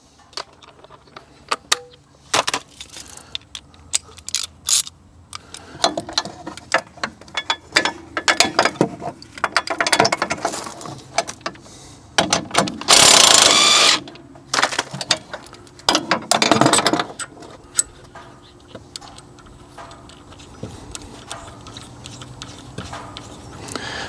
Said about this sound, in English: So pretty easy to take these front sway bars off.